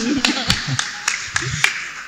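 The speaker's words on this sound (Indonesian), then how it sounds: "Iya, tepuk tangan sekali lagi dong." An audience at a commemorative gathering claps hands again in a loose rhythm: about half a dozen distinct, fairly loud claps spaced a beat apart, with a voice talking underneath.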